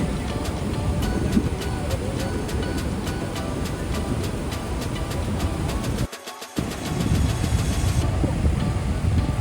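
From a boat at Niagara Falls, roaring water and spray make a loud, dense rush mixed with wind buffeting. The roar stays continuous, with a brief dropout midway.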